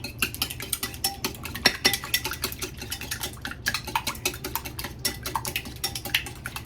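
Eggs beaten with about a teaspoon of water in a bowl for a Western omelet, a steady run of quick clinking whisk strokes against the bowl, close and fairly even throughout with no talking.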